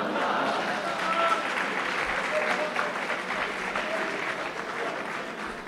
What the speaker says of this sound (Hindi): ये बड़ी डरी डरी तालियां हैं।